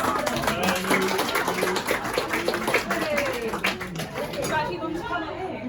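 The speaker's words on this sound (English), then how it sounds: "Big clap for her" An audience at a Lent church gathering claps to welcome a guest, with a lively patter of hands mixed with overlapping chatter and a nearby talking voice.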